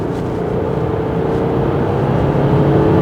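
Audi A6 sedan switched into dynamic drive mode and pulling hard, a steady, loud engine and road drone heard from inside the cabin with no voices.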